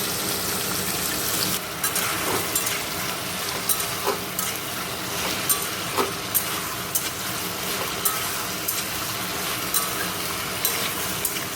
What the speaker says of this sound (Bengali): দেখো কড়াইয়ে কালো জিরে শুকনো লঙ্কা ফোড়ন দিয়ে দিয়েছি।